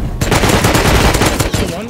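Dense, continuous gunfire in the Rust survival game during a base raid, rapid overlapping shots filling the whole moment loudly and close, with a voice faintly mixed in beneath.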